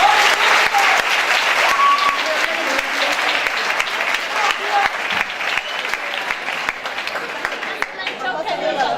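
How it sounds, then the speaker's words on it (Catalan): An audience at a secondary school graduation ceremony applauds the students and pianist, with loud, dense clapping from a large crowd under a layer of chatter and voices, continuing throughout. "Demanem un aplaudiment per a tots ells."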